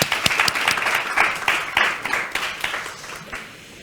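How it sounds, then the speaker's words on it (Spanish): Applause from the audience at a talk on climate crisis and vulnerable groups, a burst of dense clapping that fades out over about four seconds. "Un fuerte aplauso, por favor"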